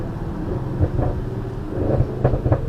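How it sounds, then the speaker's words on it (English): Audi RS6 with roughly 730 bhp, downshifting with crackles and pops from the exhaust, heard as a low engine rumble broken by several sharp bursts, loudest toward the end. "downshifts that crackle and pop like that"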